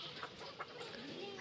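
Chickens about 20 weeks old clucking at a poultry farm in Jashore, soft repeated clucks and faint calls from several birds at close range, mixed with low background noise.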